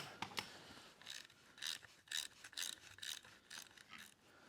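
A wrench works on a 1949 Willys truck in short, faint metallic clicks and ratcheting scrapes, several quick bursts close by with quiet gaps between them.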